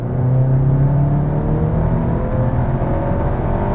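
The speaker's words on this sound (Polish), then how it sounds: "Czas pierwszy raz mocniej przyspieszyć, ale w komforcie." A Cupra Leon car engine revs hard and steadily climbs in pitch, a loud, continuous droning whir close by as the vehicle accelerates.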